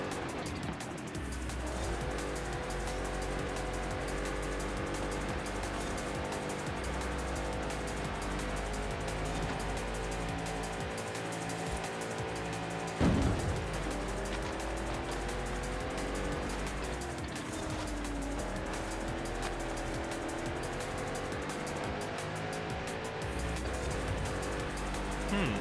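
A truck with over 1,000 horsepower in the video game Forza Horizon 5, its engine droning loud and continuous with shifting revs and brief tire squeal, steady throughout.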